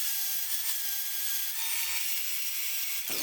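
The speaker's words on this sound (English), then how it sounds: "now I'm going to do a final cleanup with a flap disc just to remove any of the contamination from the paint" A flap disc on a power grinder cleans an aluminum part before MIG welding, giving a continuous high abrasive whine and rasp that cuts off abruptly near the end.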